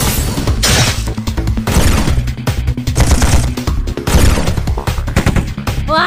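Loud, continuous bursts of gunfire and crashing impacts from the mobile mecha game Chaos Mecha, dense rapid shots layered with game music and effects, no pauses throughout.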